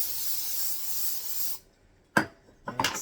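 Cooking spray hisses steadily from a can over a pan for a homestead kitchen meal, one long spray, then a pause and a couple of sharp clatters.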